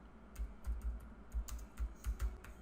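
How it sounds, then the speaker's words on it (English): Someone types on a computer keyboard while writing code. The keystrokes are quiet and come in irregular bursts of clicks with short pauses between them, and no one speaks. "I'll stop typing for a moment after this"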